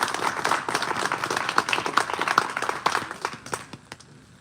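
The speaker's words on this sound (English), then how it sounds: "Let's give him a big round of applause" Audience applause at a museum announcement event for the Hawaii Mars aircraft, many hands clapping steadily and fairly close for about four seconds, thinning out toward the end.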